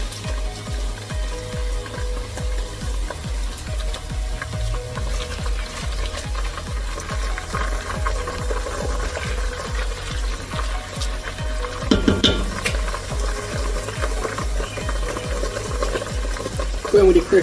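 Locust beans frying in oil and being stirred while cooking Nigerian Ofada stew, a steady sizzle with rhythmic spoon scrapes against the pot throughout, a slightly louder clatter near the end.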